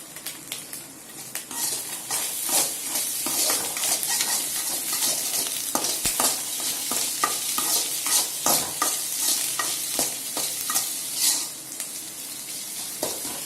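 Spoon stirring scrambled egg podimas in a frying pan, with repeated scraping strokes and clinks against the pan over a soft sizzle, continuous and close.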